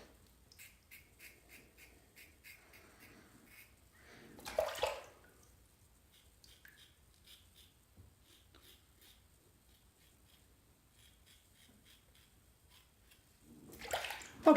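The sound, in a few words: water running, rinsing razor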